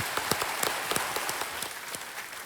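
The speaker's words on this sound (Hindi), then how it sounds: "तालियों के साथ आपका हम स्वागत करते हैं।" Studio audience on a quiz show applauding a contestant taking the hot seat, a dense, even patter of many hands clapping close and steady with sharper individual claps standing out.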